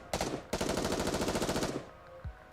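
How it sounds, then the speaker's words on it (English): Rapid automatic gunfire from the video game Nikke, two loud bursts of fast rattling shots, a brief one followed by a longer sustained volley, then a fading tail and a soft thump. "is promptly assaulted by a hail of gunfire to its core"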